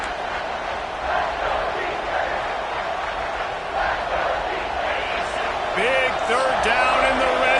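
Stadium crowd in the NCAA 26 college football video game roars steadily throughout, a dense sustained cheer with swelling surges and whistles near the end, with a commentator talking over it.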